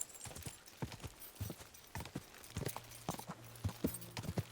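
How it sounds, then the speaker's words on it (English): Horse hooves clip-clopping at a trot through open fields in Kingdom Come Deliverance 2, a steady repeating rhythm of moderately loud, close hoofbeats with no talking over it. "It's so relaxing just trotting through the fields on your horse in this game."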